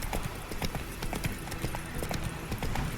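A horse gallops in The Witcher 3 video game, rapid rhythmic hoofbeats close and loud throughout, with a faint shout mixed in.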